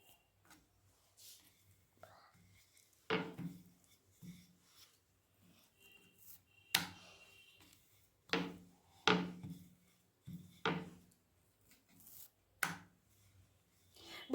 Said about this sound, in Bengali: দেখুন আমি আলতো আলতো করে চাপ দিয়ে বেলে দিচ্ছি পরোটাটাকে